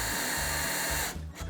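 A power drill whirs steadily while boring a pilot hole for a screw into a wooden bird box, then stops abruptly into brief stuttering bursts, close and moderately loud with no talking.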